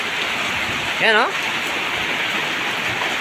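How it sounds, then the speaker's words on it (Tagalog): Heavy rain pouring steadily as a dense, loud hiss throughout, with someone speaking briefly over it. "Lakas ng ulan."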